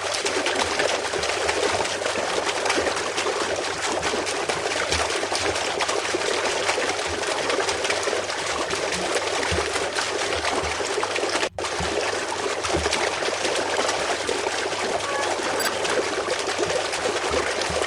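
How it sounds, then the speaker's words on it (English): Steady running water in a video game, a continuous broadband wash of flowing or trickling water that holds even and fairly loud throughout, with one brief dropout near the middle and no talking. "Heard the sound of water."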